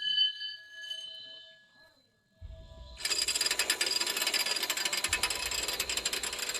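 Mine hoist mechanism starting up after a signal bell at a mine in Venezuela: a faint tone fades, then a loud, dense ratcheting mechanical clatter with low rumble kicks in and runs steadily to the end.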